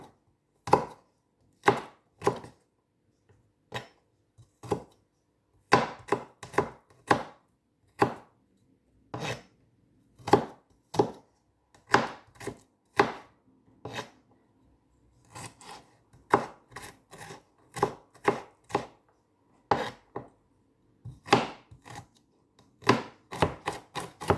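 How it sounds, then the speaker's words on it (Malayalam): Garlic being chopped with a knife on a board makes close, crisp taps in quick irregular bursts with short pauses between, alone and without any talking. "കുറച്ച് വെളുത്തുള്ളി ഒന്ന് കട്ട് ചെയ്ത് വയ്ക്കുക"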